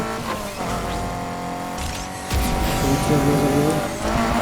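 A car in the Need for Speed Heat racing game takes a sharp turn, its engine droning loud and steady, then surging into a sustained tire squeal and skid through the corner.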